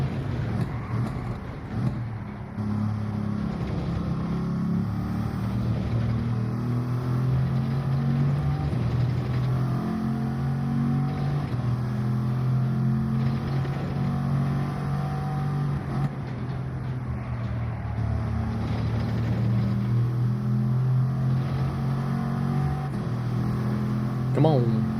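Turbocharged race car engine in Gran Turismo 7 during a Nations Cup race at Interlagos, a steady loud droning hum that holds throughout with slight pitch shifts, with a voice talking over it.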